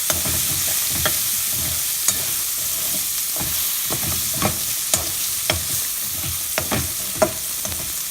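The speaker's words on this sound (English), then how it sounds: "Mix it nicely. Fry for a minute." Cauliflower and peas masala is fried and stirred in a pan, with a constant sizzle under rhythmic spatula scrapes and taps about every half second. The sound is close and clear, with no voices.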